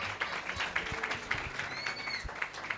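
A church congregation at a Sunday testimony meeting in Pakistan claps in a soft, distant patter. Short chirping tones are scattered through the applause, and no one speaks.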